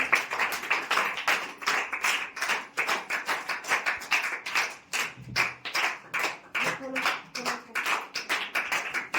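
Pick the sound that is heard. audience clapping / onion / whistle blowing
audience clapping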